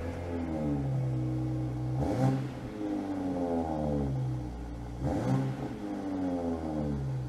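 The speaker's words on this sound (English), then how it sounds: "You can hear that engine popping and burbling. It's a great exhaust note." A deep Toyota GR Supra engine rumbles steadily indoors, swelling into two brief revs with rough popping bursts before settling back into a low, burbling idle.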